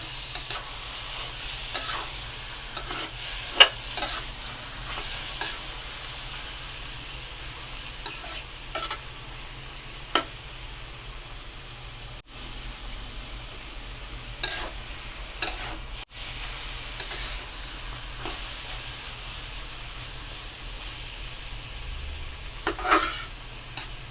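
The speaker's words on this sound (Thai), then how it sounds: "ผัดให้แห้งสักหน่อยจ้ะ" Green papaya and egg sizzle in a hot pan while a utensil scrapes and clatters against it in irregular strokes, a steady frying hiss throughout.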